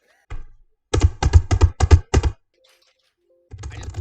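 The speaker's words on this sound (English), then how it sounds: "And you'll just hear a loud keyboard clacking." A computer keyboard clacks loudly and close up in quick bursts of keystrokes, a tight run of five or six rapid clusters followed by a pause and another burst.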